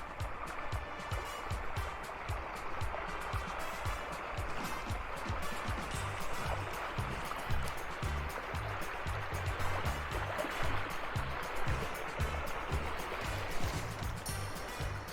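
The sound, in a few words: rushing water where two small rivers meet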